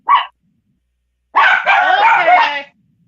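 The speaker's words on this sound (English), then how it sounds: "There go my doggies." Pet dogs at home barking with company over: one short yip, a pause, then a longer run of close, loud overlapping barks and whines from more than one dog, with no talking.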